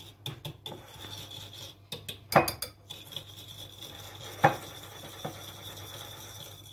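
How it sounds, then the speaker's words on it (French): Softened butter and sugar being mixed in a salad bowl for a walnut and hazelnut frangipane galette, with close scraping and clinking of a utensil against the bowl in a few irregular strokes, no voices. "pommade, avec les 80 g de sucre. Vous allez mélanger."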